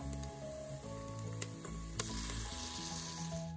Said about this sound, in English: Fry until golden brown.